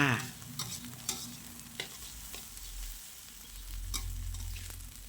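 Egg fried rice stir-fried in a pan with coriander, spatula scrapes and clinks repeating over a steady close sizzle, with no talking.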